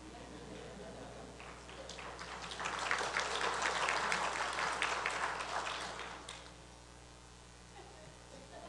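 Audience applause at a Hall of Distinction induction ceremony, a swell of clapping that rises, holds for a few seconds and fades away under a quiet room tone.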